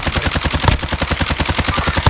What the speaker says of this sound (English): Being shot from outside?